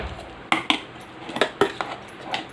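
A spoon clatters and scrapes against a pot as cooked gongura leaves are stirred into a chutney, a handful of sharp metallic knocks spaced irregularly and close by, with no talking.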